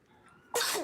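A single sharp sneeze bursts out after a moment of quiet room tone, close and loud.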